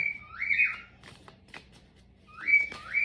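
A bird whistles a rising-then-falling wolf-whistle, twice, with a pause between calls; clear and close against a quiet background.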